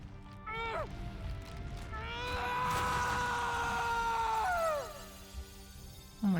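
A long drawn-out scream from the video game Metaphor: ReFantazio, rising and wavering for a few seconds over a rumbling game soundtrack, then breaking off.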